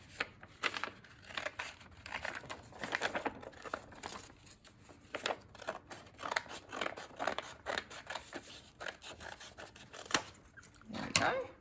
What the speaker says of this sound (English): we're going to get our scissors and we're going to cut that fold that we just made